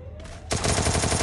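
Fast automatic gunfire in the mobile battle game Free Fire, a loud close rattling burst starting sharply after a brief quiet moment and continuing to the end.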